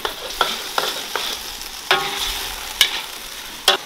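Scallion, ginger, garlic, pickled chili, pickled radish and doubanjiang are stir-fried in a wok. A soft sizzle runs under about eight sharp spatula scrapes at an uneven rhythm.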